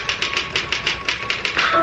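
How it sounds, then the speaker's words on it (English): Rapid typewriter keystrokes clack in an even, steady rhythm, about a dozen sharp strikes in quick succession at moderate loudness, with no voices over them. "I typed through the night."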